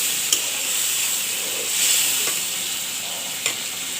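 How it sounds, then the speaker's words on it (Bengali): Spice paste sizzles and hisses in a hot pan while being stirred for an eggplant and fish-belly curry. A few soft scrapes punctuate the steady, close frying. "এখন আমি মশলাগুলো ভালো করে কষিয়ে নেব।"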